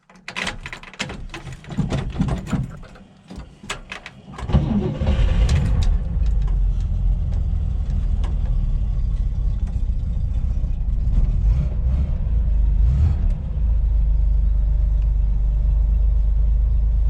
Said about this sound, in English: Corvair always runs really smoothly.